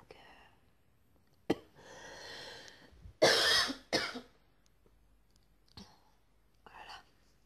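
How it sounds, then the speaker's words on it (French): A person with a sore, burning throat coughs and clears their throat during a quiet whispered session, with several short, muffled bursts and one harsher close cough, between soft whispering and breaths. "j'ai éloigné le téléphone pour pas que vous m'entendiez tousser."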